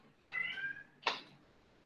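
A cat meowing faintly in the background near a window on a university campus: two short, rising meows over low ambient hum.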